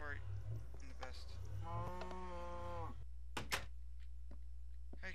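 In a video game, a cow gives one drawn-out moo, followed by a dull thunk and a few short clicks against a low, steady background hum.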